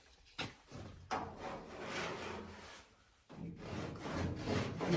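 A cheese-grater file rasps over body filler on a 1972 VW Super Beetle, producing close, quiet, scratchy strokes with short pauses between passes.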